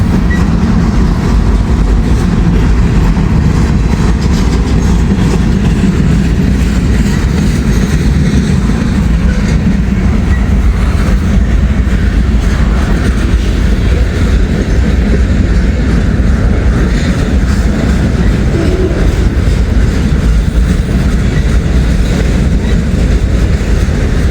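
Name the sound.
freight train with auto rack cars passing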